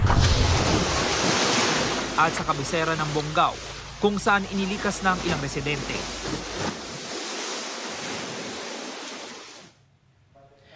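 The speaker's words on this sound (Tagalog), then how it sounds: "Malakas na ulan at hangin din ang nanalasa sa Tawi-Tawi" Strong storm wind and crashing waves roar in a steady wash of noise beneath a reporter's narration, then drop away near the end.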